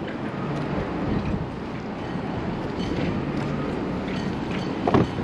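Steady wind noise buffets the microphone aboard a boat docking at Oswego, New York, with broadband rushing throughout, faint water and engine rumble beneath, and a brief louder gust near the end.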